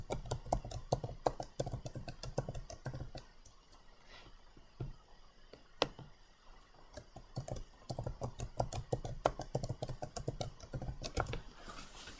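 Password typed on a computer keyboard, quick bursts of close, crisp key clicks with short pauses between, steady and alone without talk.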